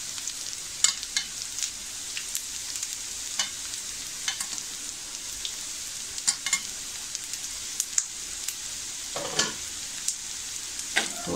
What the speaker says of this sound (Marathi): मी 10-12 लसणीच्या पाकळ्या घेतल्या आहेत, त्या आपल्याला टाकायच्या आहेत आणि थोडं आपल्याला परतायचं आहे.